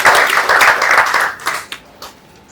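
An audience at a fitness app launch event applauds gym and fitness instructors, with a dense burst of clapping that thins into a few scattered, fading claps.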